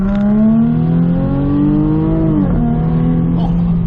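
A 2014 Jaguar F-Type Convertible engine revs loudly and steadily, its pitch climbing then dipping briefly before holding a high, sustained drone; no one speaks.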